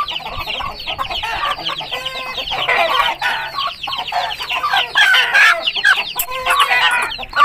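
Aseel hens cluck continuously in a steady, overlapping stream of close, fairly loud clucks and short calls, with a brief crow-like note partway through and no talk.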